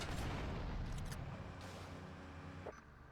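Explosions and gunfire from the GTA Vice City video game, a dense, loud, continuous rumble of blasts and shots filling the whole stretch with no talk over it.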